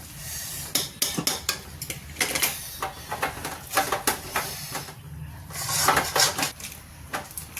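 Bajra fara filling with peas being mashed in a pan, sounding as repeated close metallic scrapes and clanks of a utensil against the pan in irregular bursts, with no talking.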